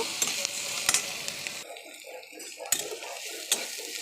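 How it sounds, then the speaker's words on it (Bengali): Onions sizzling in hot oil in a wok with black cumin and green chilli, with a steady close fry and sharp clinks and scrapes of a spatula stirring against the pan. "পেঁয়াজটা ভালো করে ভেজে নেব"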